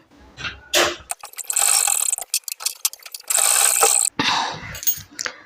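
A sewing machine stitching a kameez seam, bursts of fast mechanical whirring and clattering needle action alternating with short pauses and handling clicks, loud and close.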